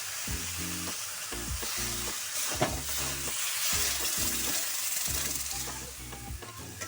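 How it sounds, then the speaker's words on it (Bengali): Semolina cooking in a pan with sugar and water added bit by bit sizzles and hisses, with repeated scraping, stirring strokes in an uneven rhythm, close and fairly loud. "জল দিয়ে নাড়তে হবে।"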